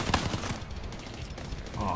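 Rapid gunfire from an online Black Ops 3 Gun Game match on the Skyjacked map, with loud, dense bursts of shots early on, then a steady, busier din of battle sounds.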